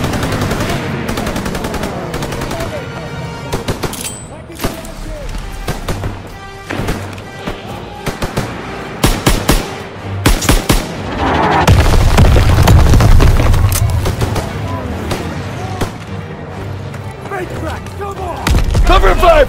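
World War II combat in Call of Duty WWII, with repeated gunshots and bursts building into heavy, rumbling mortar explosions in the later half, loud and close, with voices calling out between the blasts.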